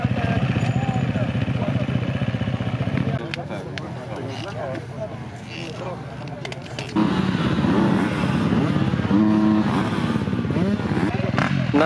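Motocross motorcycle engines roar and rev close by at a cross-country championship race in Ziębice, Poland, rising and falling as bikes race past, with someone talking over the noise.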